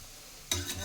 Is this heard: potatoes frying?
yes